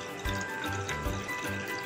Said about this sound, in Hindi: अब हम इसमें ठंडा यख पानी ऐड करते हैं।